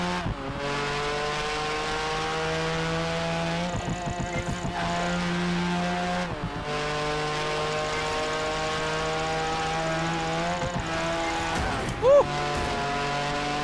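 Mercedes-Benz CLK GTR Supersport race car in Project Gotham Racing 4, a steady high-revving engine drone with gear-shift dips, sustained and loud throughout, with a brief bump near the end.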